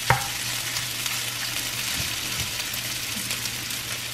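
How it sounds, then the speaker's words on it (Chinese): Beef tallow sizzles and renders in a hot pan, a dense, steady, close crackling hiss with occasional sharper pops and faint scraping. "这个已经开始出油了，这个含油量非常大的。"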